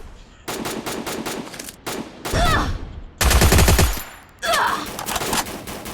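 Rapid bursts of automatic gunfire crackle in close, loud volleys with short pauses between them, heard during a battle royale video game match.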